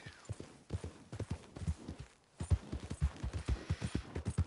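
Horse hooves clip-clop in a steady, uneven rhythm in the video game Red Dead Redemption 2, fairly close, with a brief pause partway through before the trotting resumes.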